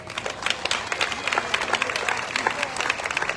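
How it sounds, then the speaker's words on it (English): Outdoor festival crowd applauding for a presenter at the Jackson Apple Festival, a dense, steady patter of many hands clapping close by throughout, with no talk over it. "give Mitch a big round of applause"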